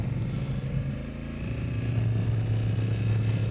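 A 2024 Honda Africa Twin DCT motorcycle being ridden on a cold road, its engine a steady, loud, low droning hum that rises slightly in pitch partway through.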